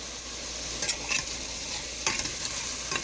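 Meat sizzles steadily in a frying pan while it is being cooked for vegetable fried rice, with a few stirring scrapes over the constant close hiss and no voices.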